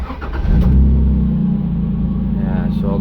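A Mk1 Escort van fitted with a 2JZ-GTE VVTi engine cranks and fires, then settles into a loud, steady, deep idle close to the microphone, with a person speaking briefly at the start.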